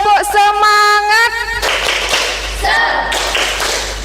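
A classroom of standing students does a rhythmic spirit clap, sharp claps in quick patterned bursts mixed with a teacher's voice and chanted shouts.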